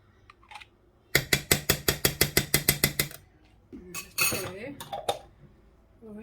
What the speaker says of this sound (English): Just give it a really good mix all over